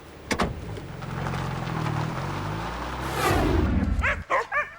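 Sled dogs in the Arctic Circle, with a vehicle-like rumble throughout and a burst of excited barks and yips near the end, close and loud.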